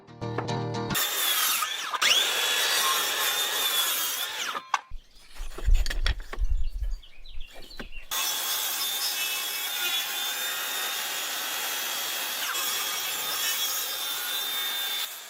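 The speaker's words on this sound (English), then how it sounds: "Trimming the overhanging edges of the floorboards makes the edges even" A saw cuts through overhanging wooden floorboard edges during floor installation, with steady continuous rasping and grinding that drops out briefly midway, then resumes at a constant level, close and loud with no talk.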